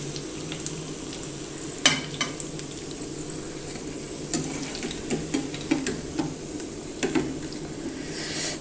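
Chicken pakoda pieces bubble and sizzle steadily in hot oil, with scattered sharp clicks and taps as they are turned over in the pan; no one speaks.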